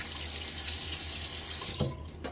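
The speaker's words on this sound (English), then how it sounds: "A little bit of a splash on my face." A bathroom tap runs steadily into a sink while water is splashed onto the face during a shave, a constant close hiss of flowing water ending in a couple of wet splashes.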